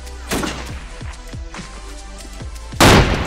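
A frag grenade explodes in the video game ArmA 2 with a loud, close blast near the end, after several sharp gunfire-like thumps and cracks.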